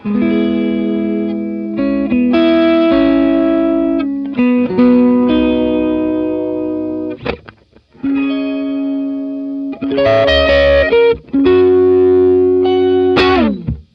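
An electric guitar plays sustained chords and single notes through chorus, overdrive, tremolo and reverb pedals, chorus before drive and tremolo before reverb: shimmering, gritty, pulsing, with a reverb tail and brief pauses between phrases.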